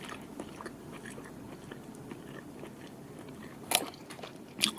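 Crocodile steak being chewed close up, a steady soft mash with a few sharper crunchy bites standing out near the end, no talking.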